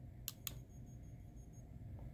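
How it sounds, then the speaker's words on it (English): A broken EL wire driver emits two sharp, short, high beeps close together near the start, followed by a faint whine over a low steady hum. "You hear that with every beep?"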